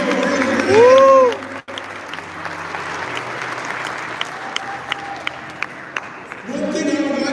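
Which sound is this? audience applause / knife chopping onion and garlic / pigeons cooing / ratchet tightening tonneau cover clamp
audience applause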